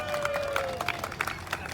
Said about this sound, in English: give them a round of applause for that quick response to doing this